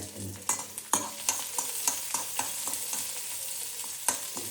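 Small chopped onions frying in a mustard and cumin tempering, a close, steady sizzle broken by repeated scraping stirs of the spoon against the pan.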